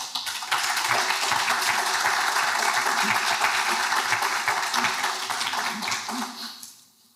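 An audience at a memory-themed lecture event applauds musical performers, dense sustained clapping at full level that fades out near the end.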